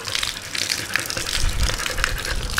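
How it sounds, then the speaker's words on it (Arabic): Water gushes and splashes as it is poured over a man's head to cool off in summer heat, a steady close pouring with uneven spatters and no talk. "بغيت نفزق راسي هو الاول"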